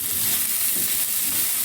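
Finely chopped capsicum and mild green chillies frying in a pan, with a steady, close sizzle and hiss throughout and no talking.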